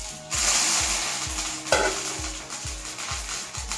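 Mustard seeds, curry leaves and dried red chillies fry in hot coconut oil, giving a steady close-up sizzle with regular crackling pulses. Nobody speaks.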